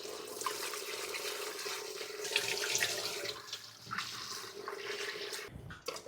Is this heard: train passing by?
no